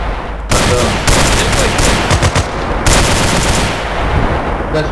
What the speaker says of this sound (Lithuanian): Kažkas šaudo į patriotą